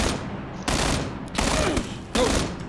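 Automatic weapons fire in a PUBG match, with three loud sustained bursts of rapid shots separated by short pauses and speech partly mixed in.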